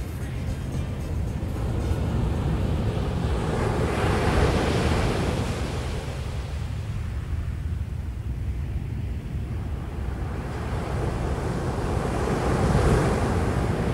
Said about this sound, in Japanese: 今週は大磯ロングビーチの目の前にある海岸にやってきました。